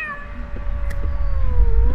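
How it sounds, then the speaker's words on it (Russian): A single drawn-out cat meow in the Pathologic 2 game wavers and falls in pitch across two seconds, close and clear over a rising low rumble. "Да кто у них тут мяукает постоянно"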